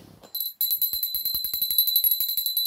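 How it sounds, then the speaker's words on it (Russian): A small bell rings several times in quick succession, bright and close, after a brief low rustle at the start, with no talk over it. "Колокольчик."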